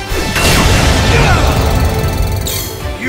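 Shooting Star Dragon's Falling Star Slam attack in the Yu-Gi-Oh Duel Links video game lands as a loud, sustained crashing boom, a dense impact with bright shimmering effects that swell and then fade over about three seconds.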